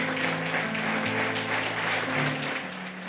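A church congregation applauds together, dense sustained clapping at a fairly loud level with sustained musical tones underneath.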